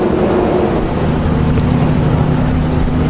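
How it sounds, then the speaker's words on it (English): A vehicle engine runs steadily and fairly close in an outdoor setting, a continuous low hum with no voices over it. "I still hear the engine"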